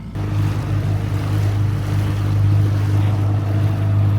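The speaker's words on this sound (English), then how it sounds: "dinghy started first time" Small dinghy outboard motor running steadily on the water, a loud, close, droning hum with wind and water wash over it, and no talking.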